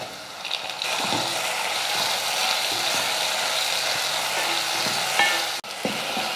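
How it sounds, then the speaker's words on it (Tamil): Tomatoes and onions fry in oil in a pan, a continuous close sizzle broken by repeated scraping and clattering stirring strokes throughout. "தக்காளியும் நல்லா வதங்கி வந்துடுச்சு"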